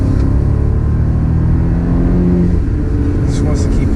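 A BMW Alpina B7 with a twin-turbo V8 pulls hard under acceleration, a loud steady engine roar with road noise filling the cabin, while people talk over it.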